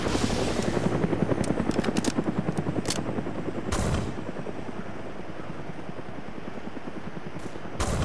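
Gunfire in a realistic military war simulator game, with rapid bursts of shots ringing out over the steady thudding rotor of a nearby helicopter, loud at first and then easing into the ongoing beat.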